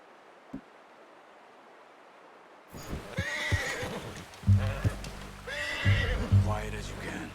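A horse in the video game Red Dead Redemption 2 whinnies loudly, with the clip-clop of its hooves beneath, starting a few seconds in after a quiet opening and repeating.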